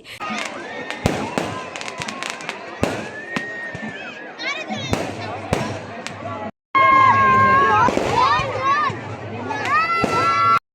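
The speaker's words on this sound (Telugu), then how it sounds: "ఇంకా బాంబులు అయితే కాలుస్తున్నారు అనమాట" Firecrackers and fireworks burst at a village goddess festival in Palavalasa, with sharp repeated bangs, whistling rockets and crackling under the hubbub of a nearby crowd, loud and close.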